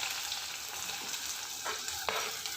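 Chopped onion and garlic frying with cumin seeds in hot oil in a kadai, a steady close crackling sizzle with a few sharper spits and stirring scrapes.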